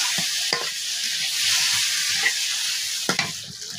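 Dried loitta fish with turmeric is stirred in a frying pan, a steady sizzle with a few sharp scraping clicks of the spoon against the pan, close and alone without voices.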